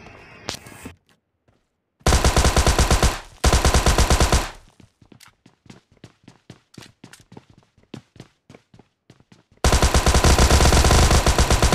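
Loud bursts of rapid automatic gunfire finish off a knocked enemy in the PUBG Lite video game, three long sustained volleys split by silence and a stretch of quick, crisp single shots or footsteps.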